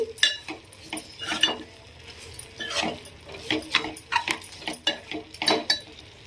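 A spoon stirs keema curry mixture with coconut powder and salt in a pan, producing close, repeated scraping clinks of metal against metal in a loose rhythm, with no talk.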